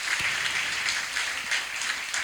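Steady applause from an audience at a school lecture event on Sikh history, dense clapping filling the whole stretch with no voices over it.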